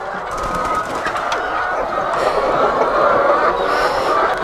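A flock of laying hens in a coop clucks and calls in a continuous, busy chorus, loud and close, with overlapping voices throughout.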